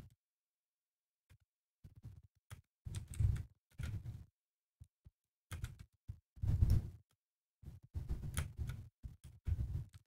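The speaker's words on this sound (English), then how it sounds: "That's the sound of me pressing the keyboard." Irregular bursts of clicky keyboard typing, close and fairly quiet, with short pauses between flurries of keystrokes.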